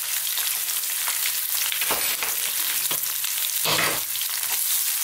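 Loud, steady sizzling of curry leaves and onions frying in hot oil over high heat for a lamb curry, with occasional bursts and stirring scrapes.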